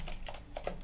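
A computer keyboard is being typed on in a Linux terminal, with a handful of quick, close key taps in an uneven rhythm.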